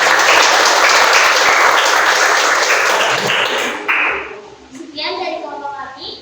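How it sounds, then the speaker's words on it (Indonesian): A classroom audience applauds, a dense wash of clapping that builds and then thins out toward the end, with a few scattered claps and children's voices near the close. "Beri aplaus."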